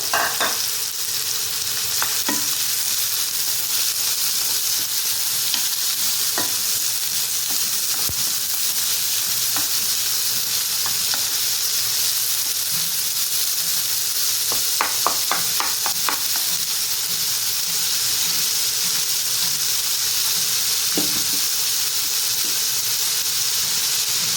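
Medium-sized onions and two green chillies sizzle in a pan, a continuous close frying hiss broken by scraping stirs and a quick cluster of clatters near the middle, with no talking.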